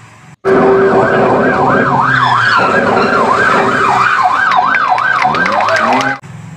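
A toy ambulance's wailing electronic siren sweeps up and down in steady cycles, loud and close, with a few faint clicks and rattles underneath.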